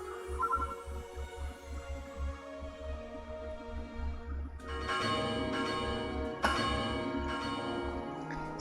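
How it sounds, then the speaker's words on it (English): Bell ringing in the Dragon Raja game, a deep resonant toll over a low pulsing hum, with two louder strikes midway that leave long ringing decays. "Someone rang the bell."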